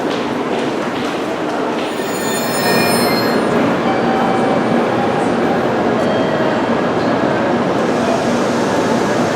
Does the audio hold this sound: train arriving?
yes